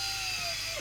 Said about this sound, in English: get the old power drill out